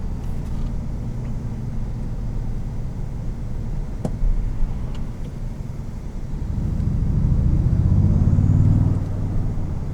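The iForce Max engine of a 2022 Toyota Tundra TRD Pro rumbles from inside the cab, then swells into a deeper, louder surge as the truck accelerates hard. A couple of faint clicks come before the surge.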